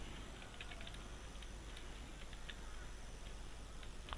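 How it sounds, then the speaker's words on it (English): Keys clicking on a computer keyboard as random text is typed, a quiet run of light, irregular taps over a steady low hum and hiss, no voices. "I'm just typing some random text"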